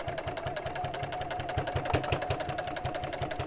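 Sewing machine stitching binding slowly, a quiet, even mechanical chatter of rapid regular needle strokes, close by and with no voices.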